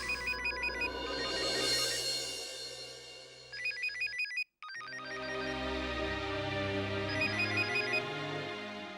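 A telephone rings in bursts of repeated electronic trills, cut by a brief silence partway through and then ringing again, steady and fairly loud indoors with no talking.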